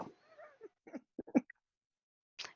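Cat meowing live on a stream, a few short close meows and chirps scattered across a quiet background.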